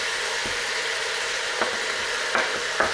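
Garlic, chili and onion sizzling in a pan for a Creole lamb navarin, a steady close frying hiss broken by a few soft stirring clicks, with no talking.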